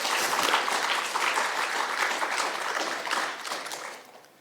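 Congregation applauding new mothers and fathers during a Sunday church service, steady sustained clapping from a large crowd that fades toward the end.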